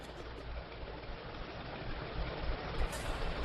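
A train rolling along in the video game Hollow Knight Silksong, a continuous low rumbling and clattering drone that grows slightly louder toward the end, with no voices.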